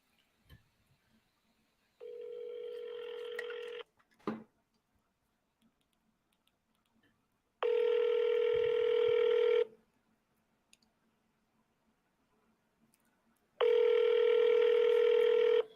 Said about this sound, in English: Chauncey, pick up the phone.